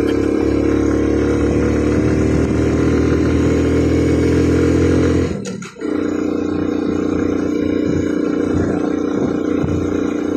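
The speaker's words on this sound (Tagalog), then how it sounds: "Grabe ang lakas ng motor na to." A Suzuki Smash motorcycle carrying a passenger climbs a winding mountain road near Calamba, Laguna. The engine drones loud and steady, then dips briefly before picking back up, with no talking.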